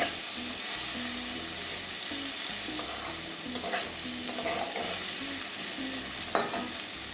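Bitter gourd frying in a pan with a pinch of garam masala powder, stirred steadily under a constant sizzle, with a few sharper scrapes of the spoon against the pan.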